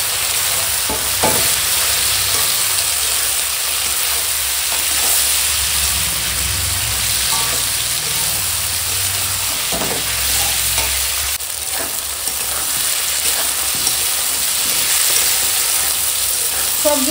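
Vegetables sautéed in a pan with turmeric, dried chilli powder and salt, a steady close sizzle with scraping stir strokes throughout, no talk.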